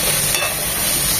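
Chopped carrot fries in hot oil in a pan for white sauce chicken pasta, a loud, steady close-up sizzle with no talking.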